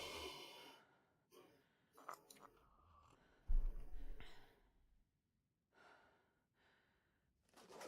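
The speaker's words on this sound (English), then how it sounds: "You heard the bear breathing outside the cave used as the base." A bear breathes heavily outside a cave in a survival video game, with slow rough exhales and snorts coming in separate bursts, one loud gust in the middle and quieter breaths after it, and no talking.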